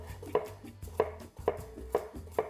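Knife cuts a carrot on the bias on a board, five evenly spaced crisp chops at close range with a soft thud under each stroke.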